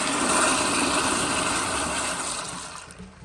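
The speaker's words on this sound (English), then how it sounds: "So here's another flush with the pressure turned all the way up." An Eljer Signature toilet from 2000 flushes with its water pressure set to maximum, a loud, steady rushing gush that holds strong for nearly three seconds before starting to taper off.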